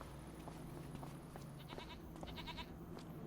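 Goats bleat at a goat milk dairy on the Daheim map in Farming Simulator 25. A few short, clustered bleats rise in the second half over a steady farmyard ambience, with no talk.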